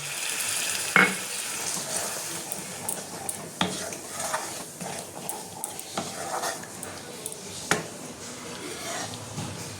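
Stuffed potatoes frying in spiced masala, stirred slowly in a pan, with a soft continuous sizzle and occasional metal scrapes and clinks close by.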